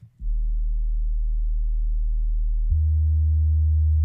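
A deep, smooth synth sub-bass tone from a hip-hop mix sustains on its own, holding one low note before stepping to a slightly higher pitch, ending with a short click.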